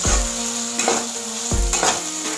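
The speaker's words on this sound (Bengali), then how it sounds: "এবার ভালো করে এইটা মিক্স করে নেব মশলাগুলো।" Spices for a cauliflower curry are stirred in a hot frying pan, a steady sizzle broken by two firm scraping strokes of the spoon, close and loud with no talking.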